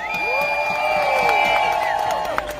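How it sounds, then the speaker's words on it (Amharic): Crowd at a peaceful Ethiopian rally in Washington, DC cheering, with high wavering ululation and whoops riding over a steady wash of crowd noise for a few seconds. "ሞቅ ያለ ጭብጨባ"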